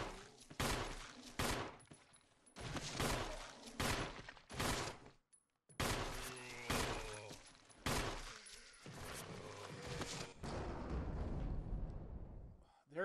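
Rapid bursts of gunfire aimed at zombies in the Resident Evil HD video game, loud and close, repeating in clusters with brief gaps between volleys.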